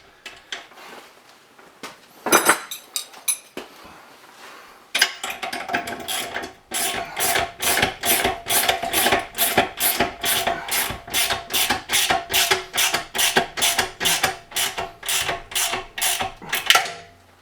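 Bolts with nylock nuts are tightened by hand on a bench grinder wall mount, producing a steady run of loud, rhythmic ratchet clicks, each stroke a quick burst of metallic ticking, preceded by a few scattered clanks and handling noises.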